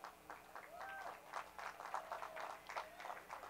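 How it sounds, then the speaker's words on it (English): A crowd applauds the food vendors at an outdoor pizza-tasting event, steady clapping with a few whistles and cheers mixed into the din throughout. "they deserve a round of applause"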